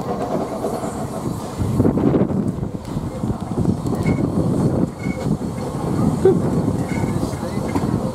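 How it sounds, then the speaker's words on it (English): A steam train engine puffing off and rolling along, a steady low rumble with rhythmic clickety-clack and occasional faint squeals, a voice briefly heard over it. "while we're puffing off, we can just say bye-bye to this engine."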